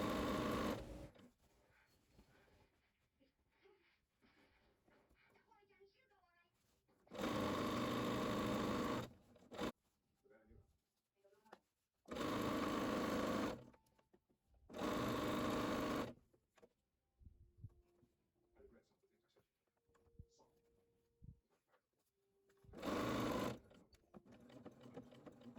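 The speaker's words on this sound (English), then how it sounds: "I will come back and do a zigzag stitch" A sewing machine running a zigzag stitch along pillowcase fabric, sounding in four loud steady bursts of whirring with quiet pauses and small handling noises between them.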